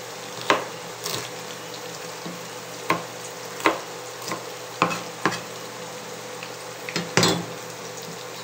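Tofu frying in a pan, a steady sizzle running underneath with a string of sharp stirring scrapes and clinks of a utensil against the pan at irregular intervals, close and alone without talk.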